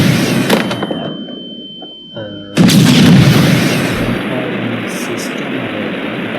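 Grenade blasts in an Unreal Engine 5 game demo: a sharp click and short rumble early, then one loud heavy explosion that booms and slowly decays into a long rumbling tail.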